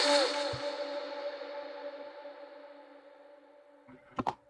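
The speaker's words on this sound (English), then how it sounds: "we are having the reverb tail run out long, you know, of this sound here" In a drum and bass track, a tonal synth hit decays into a long, smooth reverb tail that fades slowly over several seconds before two short percussive hits cut in at the end.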